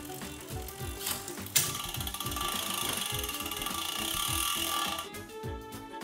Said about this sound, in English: Press Start, and a prompt will appear to rotate the crank arm.